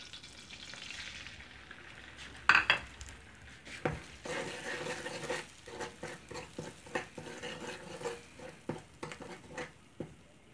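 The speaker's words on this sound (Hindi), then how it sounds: "ऑयल हमारा गर्म हो गया, सूजी डालते हैं हम।" Semolina sizzles and fries in hot oil in a pot, with a steady crackle under repeated scraping stirs and a sharp metallic clink early on, close and fairly quiet.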